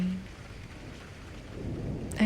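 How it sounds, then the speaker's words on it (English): Rain and low rolling thunder during a nighttime storm, a steady soft wash with a broad rumble swelling toward the end, heard alone at low level. "the type who gets afraid of a little bit of thunder and a little bit of lightning"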